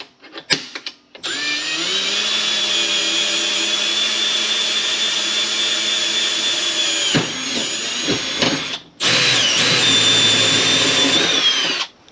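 A power drill whirs steadily in two long bursts into a Pontiac GTO's body for a kill switch installation, broken by a short pause of clattering and handling noise.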